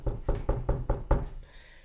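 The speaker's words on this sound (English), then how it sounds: "He gets a knock on the door." A quick run of five firm knocks on a door in the Oval Office during World War II, evenly spaced and close, followed by a moment of quiet.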